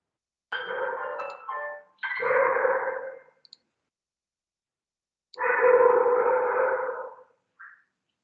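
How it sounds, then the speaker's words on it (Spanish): A small dog barking in the background of an online phonetics class, several sustained, echoing bursts separated by quiet gaps, loud and clear with no talking over it. "hay un perrito de fondo que no deja escuchar muy bien"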